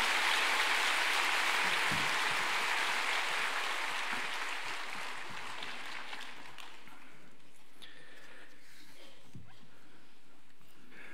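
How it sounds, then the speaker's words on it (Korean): Audience applause welcoming a pastor to the front of a church service, a broad wash of clapping that starts full and loud and then thins and fades over several seconds, with no voices over it. "우리 박수로 주님께 감사함을 환영하겠습니다"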